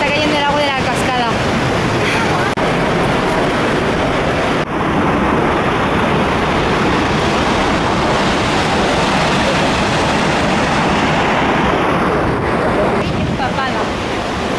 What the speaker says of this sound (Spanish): Me estoy empapando porque nos está cayendo el agua de la cascada